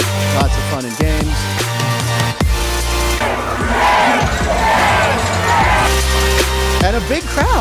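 A large crowd at a minor league ballpark cheers and chatters loudly, with whoops, shouts and clapping rising and falling close by, and voices speaking over the din.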